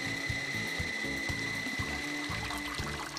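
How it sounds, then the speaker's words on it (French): A mill grinds soaked soybeans with a steady mechanical churning and grinding that runs continuously and loudly throughout, with no voices. "Faites moudre les grains trempés au moulin."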